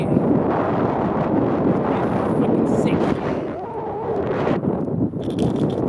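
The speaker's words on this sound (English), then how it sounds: "Whoa, it's windy." Strong wind buffets the microphone with a constant low roar and rumble, nearly covering some faint voices in the background.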